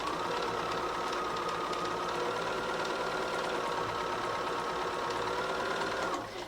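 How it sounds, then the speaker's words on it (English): A sewing machine runs steadily for about six seconds, stitching the seam of a quilt block, a continuous mid-pitched whirring hum that stops abruptly at the end, with no voices. "we can sew the rest of the seam"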